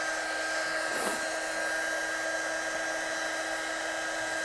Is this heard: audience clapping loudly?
no